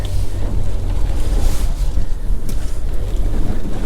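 A fishing boat motors back up with a loud, continuous engine and water rush, heavily mixed with wind buffeting the microphone and surf-like wash.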